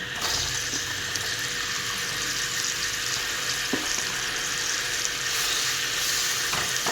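Chicken pieces sizzle and crackle in hot oil, with a steady broadband frying hiss and occasional soft stirring knocks, close and continuous.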